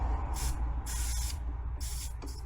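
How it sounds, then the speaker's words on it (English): WD-40 sprayed from behind into stuck bolt threads on a Beta Alp motorcycle, three short, sharp aerosol bursts, close and loud over a low background rumble. "next thing we'll try some WD-40 into the threads from behind"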